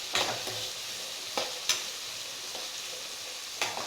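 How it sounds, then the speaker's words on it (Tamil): Boiled chickpea sundal sizzles and crackles in a hot pan while it is stir-fried, with a steady frying hiss and several sharp spatula scrapes and pops. "சடசடன்னு இப்போ சவுண்டு வருதில்ல"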